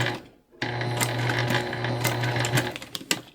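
A sewing machine fitted with a tank foot stitches fabric, a rapid mechanical chatter starting after a brief pause and running steadily at close range, with a few louder clicks near the end.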